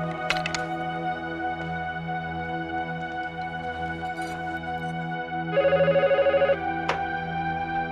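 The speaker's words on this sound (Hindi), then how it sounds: "मैं अभी देवीसन को फोन करके पता लगाती हूँ।" A telephone rings in a steady electronic trill, with a louder burst of ringing partway through, over a constant background hum.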